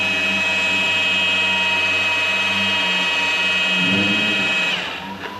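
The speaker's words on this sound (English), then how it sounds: "As I'm buffing this, you see I'm staying in that same spot, but I'm always keeping my buffer moving." An electric power buffer polishes the paint on the rear quarter panel of a 1969 VW Beetle Convertible, a loud steady high-pitched motor whine with a rubbing drone that holds constant, then dips and winds down near the end.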